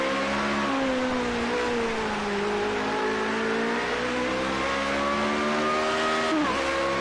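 A Formula Renault open-wheel race car in Project Cars 2, engine holding a loud steady high whine that rises and falls with throttle, dipping sharply near the end before climbing again, heard alone without talk.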